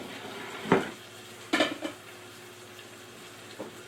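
Potato is mixed in a pot with a few sharp utensil scrapes and clinks against the pot, spaced apart over a quiet background.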